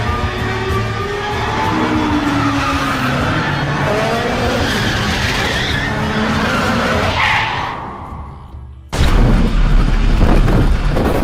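A Ferrari skids with long tire squeals and a roaring engine, the noise building loud and close before a brief drop and a sudden heavy crash burst, with no talk.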